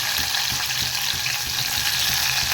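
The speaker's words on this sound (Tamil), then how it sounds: "காய் சேர்த்து வெங்காயம் நல்லா வதக்கிடுது." Dried red chillies and onion sizzle loudly in a hot pan for a keerai kadayal greens dish, a dense continuous frying hiss up close with faint stirring knocks underneath.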